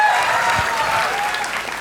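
An audience at a Gujarati comedy and hip-hop show in Ahmedabad claps enthusiastically, dense sustained applause heard close and loud throughout the short burst.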